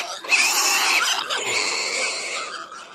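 A large herd of pigs, countless in number, advancing toward a cliff edge in an audiobook sound effect; dense, continuous grunting and squealing swells loudly, then carries on as a sustained chorus with no talk over it.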